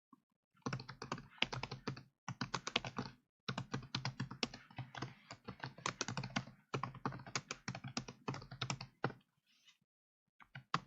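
Quiet, close computer keyboard typing comes in rapid clustered bursts of key clicks, separated by brief pauses, with an occasional single key press standing apart.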